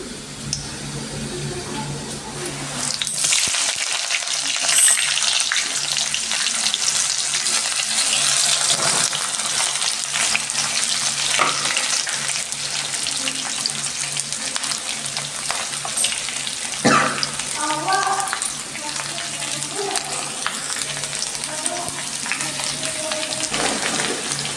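Onions frying in hot oil with mustard seeds, cumin and curry leaves for an onion-coconut dish, a steady loud sizzle with occasional stirring clinks and scrapes, no voices.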